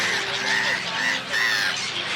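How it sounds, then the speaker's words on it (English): Seagulls calling by a lake in Kunming on a cloudy morning, a dense chorus of squawking cries overlapping continuously, loud and close, with more birds audible in the background. "I've made it past the majority of the seagulls, although there are still a couple here"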